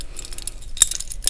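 Small metal knitting accessories hanging from a basket clink faintly a couple of times, brief light chinks close by over quiet background.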